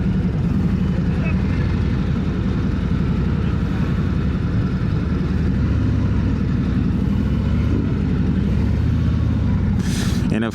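A 2025 Harley-Davidson Road Glide 3 trike rolls slowly in first gear at walking pace toward cones, giving a steady low engine rumble throughout, with people talking over it.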